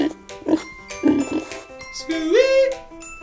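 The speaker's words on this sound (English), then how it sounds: "Some pig." A pig oinks and grunts in short nasal bursts, close and fairly loud, ending in a longer rising squeal, with chime-like tones ringing in the background.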